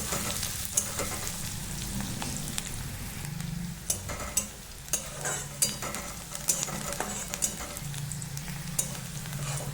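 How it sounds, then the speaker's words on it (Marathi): Onion sautéing in a kadhai until brown, a steady low sizzle with a spoon scraping and clinking against the pan every second or so, close and alone. "कांदा इथे छान असा परतून घ्यायचा ब्राऊन होईपर्यंत"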